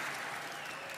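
A studio audience bursts into steady, dense applause mixed with laughter during a Monty Python lumberjack sketch, a continuous broadband wash of clapping with no pauses.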